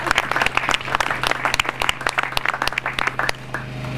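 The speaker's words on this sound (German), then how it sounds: "Auch ein kleiner Applaus für die junge Dame." A small audience at an outdoor community tree-planting gathering gives scattered, individually audible claps that build into a brief round of applause and then taper off, with a steady low hum underneath.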